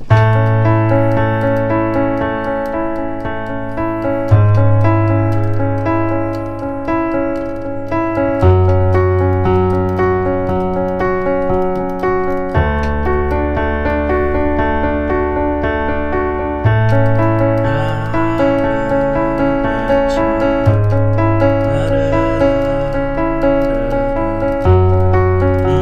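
Keyboard playing a four-chord progression, sustained chords changing every few seconds over a steady bass, clear and alone with no voices.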